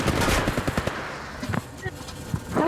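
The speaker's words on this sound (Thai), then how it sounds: "กำลังโดนยิง" Automatic gunfire in the Apex Legends Mobile video game, rattling in quick bursts up front before thinning into scattered, fainter shots, with game voice callouts mixed underneath.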